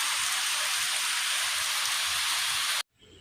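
Heavy rain falls hard in a thick, constant roar close by, then cuts off abruptly near the end, leaving near silence.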